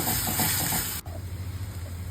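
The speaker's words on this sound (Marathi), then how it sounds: "कढईमध्ये एक चमचा बटर आणि एक चमचा तेल घालून हे वाटण सगळं व्यवस्थित परतवून घ्यायचं" Ginger-garlic-chilli-onion paste sautéing in butter and oil in a kadai gives a steady, close hiss that cuts off abruptly halfway, leaving a low hum with faint sizzle.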